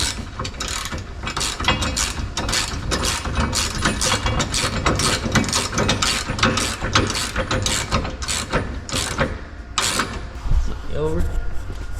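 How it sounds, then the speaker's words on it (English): A socket ratchet with a 16 mm socket clicks rapidly and continuously, close and loud, snugging nuts on a Sprinter van rear tube step, with a person talking over it. "you'll grab your 16 mil socket and 19 mil wrench"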